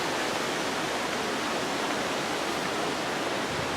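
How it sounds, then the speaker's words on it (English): A garden waterfall heard from the bottom of the falls as a steady, dense rushing hiss of falling water, even and unbroken, with no voices. "we're at the bottom of that waterfall"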